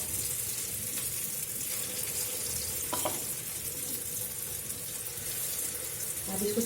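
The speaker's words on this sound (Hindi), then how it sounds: "मैंने तेल कढ़ाई में डाल दिया है और मैं चम्मच से डालूंगी इसमें।" Broad bean pakora batter sizzles in hot oil in a kadhai, a steady close crackle and hiss with occasional spoon clinks, no talking heard.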